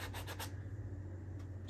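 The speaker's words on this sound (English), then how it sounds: "and we can just lightly sand" A sanding block is rubbed lightly over a small painted plastic charm, giving a short soft scratchy rasp of a few quick strokes, then a quieter patch and another faint stroke under a low steady hum.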